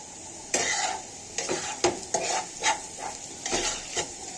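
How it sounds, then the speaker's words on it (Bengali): A spatula scrapes and stirs onions frying in a pan for hilsa fish dopiaza, with repeated scraping strokes over a soft steady sizzle, close by. "এখন এটাকে একদম আমি বেরেস্তা করে ফেলবো। এটাকে আমি একটু নেড়ে ফিরে দিচ্ছি।"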